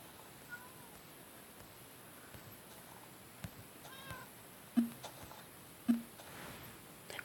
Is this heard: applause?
no